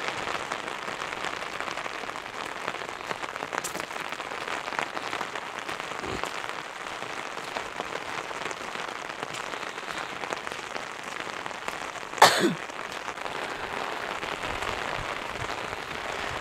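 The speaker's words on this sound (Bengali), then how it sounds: "প্রচণ্ড বৃষ্টি হচ্ছে," Heavy rain pours steadily outdoors in foggy hill country of Dirang in Arunachal Pradesh, a dense, constant hiss with no voices, broken by one brief sharp knock partway through.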